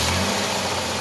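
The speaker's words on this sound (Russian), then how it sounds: "Сейчас мы его запустим." The 2001 Dodge Caravan's 2.4-litre petrol engine runs loud and close just after starting, a steady mechanical roar with a low idling hum.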